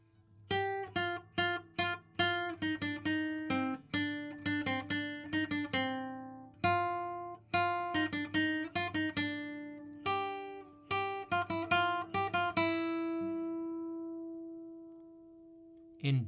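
Individual violin sonata parts play one at a time as clear sustained and plucked-like pitched notes in a steady rhythmic sequence, ending on a long held tone that rings out, with no talking.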